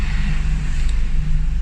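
A BMW 318i idles just after being coaxed to start following a crank-no-start fault, a loud, close, steady low engine hum with a faint brief tick partway through and no voices.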